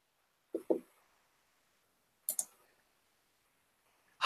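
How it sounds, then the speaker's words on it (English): Keys tapped on a computer keyboard during a writing session, heard as a quick double burst of clicks, then another pair about two seconds later and a final tap at the end, close and fairly quiet. "Oh, I hope I can type better this time around. Maybe I'm getting used to the damn keyboard."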